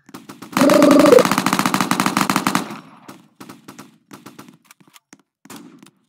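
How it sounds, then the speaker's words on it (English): An apple gun in a Roblox Brookhaven game lets off a loud rapid burst of automatic fire lasting about two seconds, then trails into scattered, fainter single shots. "I use apple gun."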